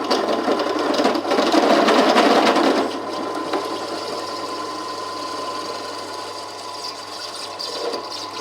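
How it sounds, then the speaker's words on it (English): A belt-driven drill bores a hole through a coin held against wood in a coin-ring jig, giving a steady, loud whirring grind that eases off partway through and then runs on quieter and even. "So let's see if we can drill a hole in the middle and see where it comes."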